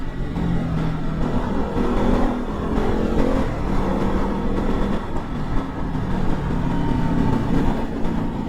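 A motorcycle rides fast along a highway, its steady engine drone mixed with heavy wind rush that stays loud and constant throughout, with no voices.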